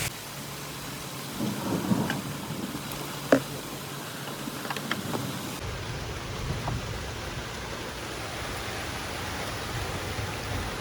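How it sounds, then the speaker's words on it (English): Heavy rain pours steadily during a thunderstorm at a campsite around a Chrysler Aspen SUV, a dense broadband hiss with low rumbles of thunder and a few sharper drips and knocks, no voices. "It's how hard it's raining."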